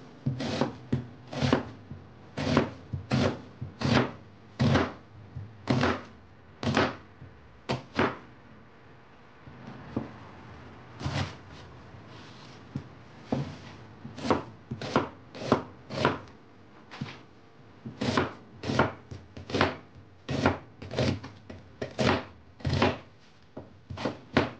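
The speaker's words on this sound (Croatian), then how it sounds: "Ovdje imam jednu malu glavicu luka koju ću da isječem." A knife chops a small onion on a cutting board in quick, crisp knocks, with bursts of rapid strokes broken by short pauses, close and clear.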